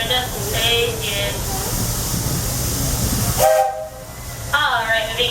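The Walt Disney World Railroad train rolls along with a steady rumble and hiss, while people speak over it and brief tonal sounds rise and fade, close and fairly loud.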